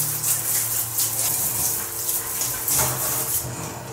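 Water sprayed in steady hissing bursts over an electric fan kept in a kitchen, broadband wash of spray rising and falling in close, continuous gushes with no talk.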